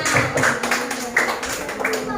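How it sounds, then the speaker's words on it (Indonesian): Third-grade pupils clapping in a classroom: a run of separate, sharp group claps at a quick rhythm, close by, with voices talking through them. "Tepuk tangan dulu untuk kita semua"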